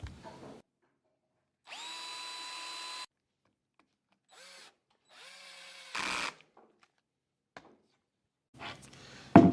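A power drill drives screws into a wooden rocking chair rocker, with several separate whirring bursts of a second or two each rising in pitch, separated by quiet pauses and a few knocks.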